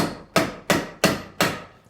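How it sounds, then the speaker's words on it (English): Four evenly spaced sharp impacts from tools used while countersinking bolts into the frame of a deluxe lounger loveseat during assembly, each strike close and loud with a quick decay, about a third of a second apart. "I like to countersink them right in, and then you just go through and tighten them down"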